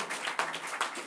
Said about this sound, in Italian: Un applauso per Cleonimo, seppur bastardo, e per il vincitore